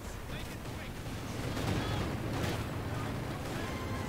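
Grenade blasts in the World War II strategy game Company of Heroes 2 sound as a steady, muffled battlefield rumble with a couple of heavier bursts in the middle, mid-distance, under faint voices.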